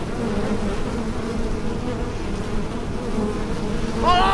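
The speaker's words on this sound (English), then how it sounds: "What is that annoying buzzing sound? It must be the sound of bees." A swarm of bees buzzing inside a mall, a dense steady drone filling the whole stretch, with one nearer insect whining past at the end.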